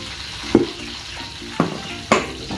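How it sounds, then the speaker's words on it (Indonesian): Tofu frying and being stirred in a pan, with a steady sizzle broken by three sharp scraping stirs, close and fairly loud. "Tinggal goreng tahunya."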